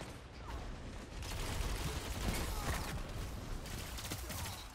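Gunfire and a grenade blast rumble through a video game firefight with a pulse rifle, a dense low roar with rapid distant crackling shots, moderately loud and sustained.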